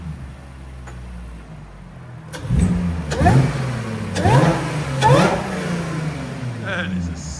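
A 2018 Audi A7 with a 3.0L supercharged V6 and muffler delete is revved in several sharp blips, each rising and falling, after a quieter idle, close and loud.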